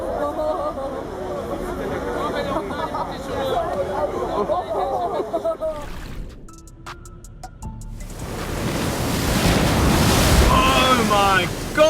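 Fierce storm waves at sea surge and crash around a ship amid roaring wind buffeting the microphone, loud and close, with a brief quieter break before the surf swells again and people shout over it.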